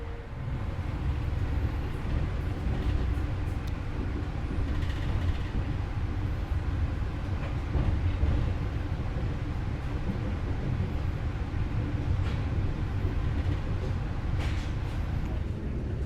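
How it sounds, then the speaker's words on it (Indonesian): The KA Anggrek passenger train pulls out of Cirebon station, giving a steady, loud low rumble with continuous rolling rail noise throughout, heard from inside the carriage, and a voice speaks over it. "berangkat kembali meninggalkan stasiun Cirebon"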